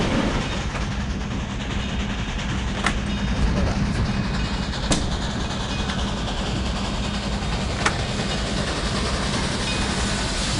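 A train carriage rolls steadily in The Last Express video game, a continuous dense rumble with faint clickety-clack and occasional sharp clanks, loud and unbroken with no voices.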